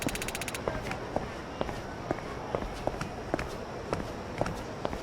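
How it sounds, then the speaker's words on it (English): Default footsteps in Like a Dragon: Pirate Yakuza in Hawaii: a steady, brisk run of light, evenly spaced steps over a continuous ambient bed, moderately close. "I found myself weirdly attached to the default footstep sound"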